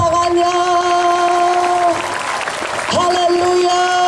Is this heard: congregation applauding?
yes